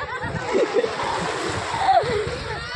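Water splashes and washes in at the shore near the Mahim Dargah fair, a steady close wet churning with faint voices underneath.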